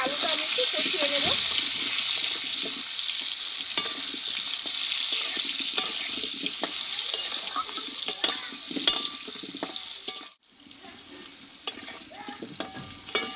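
Potato pieces frying with turmeric and salt sizzle steadily in a pan while scattered clicks and scrapes of stirring come through. The sizzle drops off abruptly near the end before resuming more quietly.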